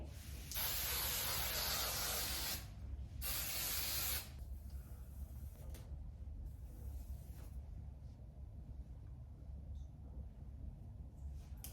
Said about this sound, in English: Hairspray, Tresemme.